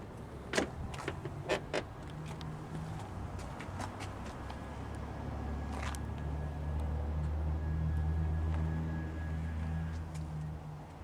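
Power windows on a 2004 Ford F-250 Super Duty XLT SuperCab with a V10 move with a steady low electric motor whir for several seconds inside the cab, preceded by a few sharp clicks and taps.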